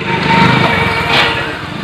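Jugaad tractor built from an old motorbike, running in a field, its small engine buzzing with a steady, loud, close drone and a slight rise in pitch partway through.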